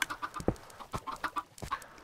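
Several chickens in a pen from the game MCUnified cluck steadily in a busy, rhythmic chatter of short close calls, with no talking over them.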